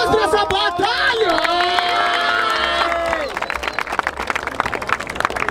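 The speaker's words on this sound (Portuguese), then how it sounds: "Palmas pra essa batalha." A crowd at a rap battle semifinal in Barueri, São Paulo, cheers with loud shouts and whoops. Dense, scattered clapping then takes over and continues to the end.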